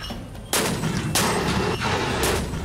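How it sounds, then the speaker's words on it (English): A 9 mm Marine Corps semi-automatic pistol with a 15-round magazine fires three loud, sharp shots spaced about half a second to a second apart, each followed by a ringing outdoor echo. "It is a 9 millimeter, receives 15 round magazine, and it fires semi-automatic."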